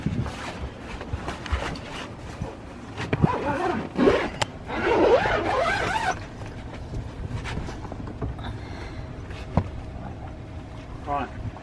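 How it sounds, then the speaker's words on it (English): The canvas roof of a converted VW T5 LWB camper van is zipped shut in a few rasping pulls around the four-to-six-second mark, close by, with people talking before and after. "So we'll just zip this up."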